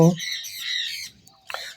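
Lovebirds kept for delivery, including lutino, violet Fischer's, violet masked and albino birds, let out a sharp close squawk followed by shorter chirpy calls and a brief pause.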